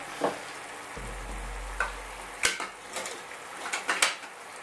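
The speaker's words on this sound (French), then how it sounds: "Donc là, les échalotes réduisent." Shallots reducing in a pan while preparing stuffed prawns: a soft, continuous sizzle up close, with occasional clicks and knocks of utensils against the pan.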